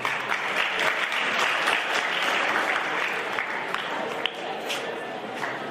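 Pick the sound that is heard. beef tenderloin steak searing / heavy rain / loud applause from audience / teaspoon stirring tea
loud applause from audience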